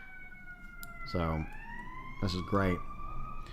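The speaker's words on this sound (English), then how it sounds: "Sirens are going by." Emergency vehicle sirens pass outside, rising and falling wails clearly audible behind the room, while someone talks briefly over them.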